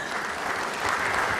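Brief burst of audience applause at a geopolitics conference in Kampala, steady even clapping from a crowded hall heard on its own.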